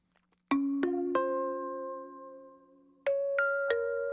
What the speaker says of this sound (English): I love that bell chimey sound.